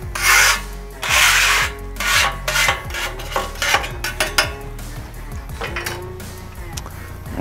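Metal scraper scraping a Halo Elite4B griddle after cooking a smash burger, loud close rasping strokes repeated in quick succession with metallic scrapes and clinks.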